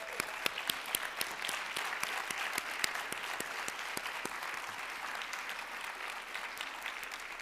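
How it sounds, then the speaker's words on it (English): A crowd applauds steadily, with many sharp individual claps standing out over a dense wash of clapping that continues without pause. "Can we give them a round of applause?"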